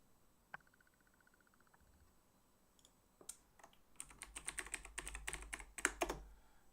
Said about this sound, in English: sorry about the sound of my keyboard